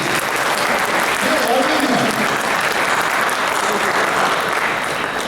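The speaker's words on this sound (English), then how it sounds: "give yourselves a round of applause" Audience applause at an event honoring Dr. Yunus at the Universal Sheraton, a steady dense wash of clapping filling the room at even loudness, with faint voices mixed underneath.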